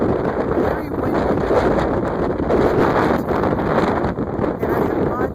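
Strong gusty wind buffeting the microphone on a cloudy morning at Carolina Beach with ocean waves nearby, a loud, steady roaring rush throughout with no pause.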